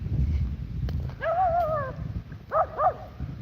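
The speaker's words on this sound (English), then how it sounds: "Dude, dogs everywhere" Dogs barking at a distance outdoors, a few separate yelping barks with a whimpering, wavering tone, heard over low background rumble and wind.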